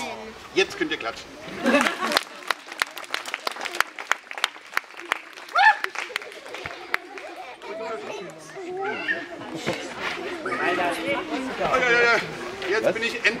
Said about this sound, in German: Jetzt könnt ihr klatschen.